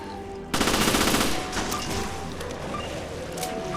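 Loud automatic gunfire in Resident Evil Revelations Abyss Raid Mode bursts in suddenly and rattles on as a sustained rapid stream of shots at the strangler enemy, then tails into a lingering noisy echo.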